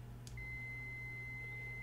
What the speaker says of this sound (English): You touch your two prongs together and it beeps.